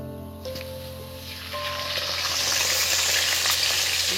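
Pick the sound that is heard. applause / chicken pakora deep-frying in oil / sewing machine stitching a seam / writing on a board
chicken pakora deep-frying in oil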